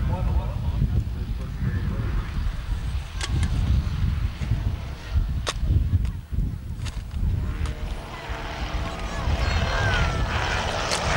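Charles Kingsford Smith's Southern Cross, a large long-range propeller aircraft, flying at an air show in New Zealand: a steady droning engine roar over crowd noise, with occasional sharp clicks and a brief honk nearby.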